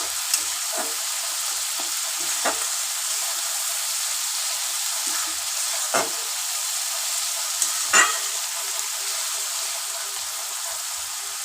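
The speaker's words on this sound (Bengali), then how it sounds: "একটু তেল দিয়ে দিলাম, একটু তেলটা কম ছিল। এটা ভালো করে কষতে।" Katla fish head frying in oil with a little extra oil added, a constant bright hiss of sizzling with occasional faint stirring knocks, steady and close.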